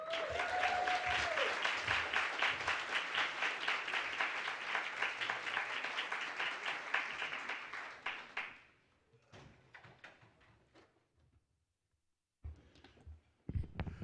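A conference hall audience claps loudly for Dr. William Sandy Darity at a wealth awards event, dense sustained applause that fades out after about eight seconds, followed by a few scattered taps and thumps.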